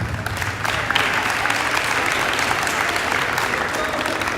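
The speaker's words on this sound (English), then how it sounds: "So let's give a big round of applause up for that." A school crowd at an early-winter sports assembly applauds the 7th grade team, producing dense, steady clapping that fills the space and holds at full strength from start to finish, with a faint murmur of voices underneath.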